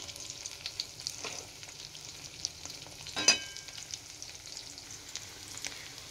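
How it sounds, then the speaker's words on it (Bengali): Steady crackling sizzle of soybean chunks frying in hot oil, with a brief louder spatter midway and light stirring sounds throughout. "এগুলো অল্প অল্প করে ভেজে নিচ্ছি"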